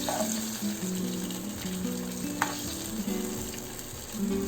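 Dry red chillies and urad dal frying in a pan, a continuous oily sizzle with occasional stirring clinks and scrapes, close and moderately quiet.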